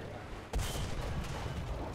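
A single tank cannon shot in the War Thunder video game, fired from a PT-76 light tank: one sudden loud boom partway through, followed by a rumbling tail and battle noise under faint background sound.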